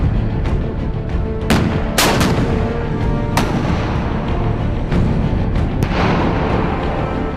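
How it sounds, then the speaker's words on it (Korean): K1 tanks fire main-gun live rounds while moving on a range toward targets 1.2 km away, several loud sharp cracks spaced irregularly over constant engine and track rumble, no talk. "전차가 기동간 사격을 하며 1200m 떨어진 표적을 향해 실탄을 날린다"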